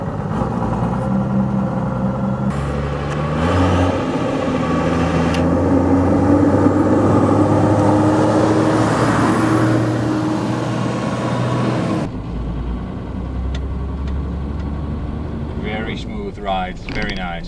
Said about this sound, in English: gotta love those 12HT engines. Listen to this sound, guys.